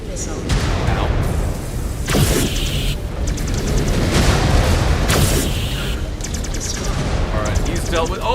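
Missiles explode in the MechWarrior 5 Clans video game amid a dense, continuous barrage of booms and gunfire, with loud blasts landing every second or two over a constant roar of battle.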